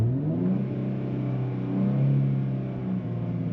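A 2023 Nissan Z with a 6-speed manual and traction control off accelerates hard, its engine note rising in a steady, loud drone with strong low harmonics that climbs in pitch, heard from inside the car without talk.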